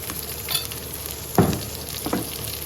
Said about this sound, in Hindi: अब इसमें लहसुन और अदरक का पेस्ट डाल दें।